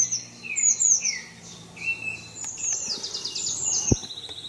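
Birds chirp by a roadside, with short, bright tweets and trills repeating in quick bursts against a quiet outdoor background. No voices are heard.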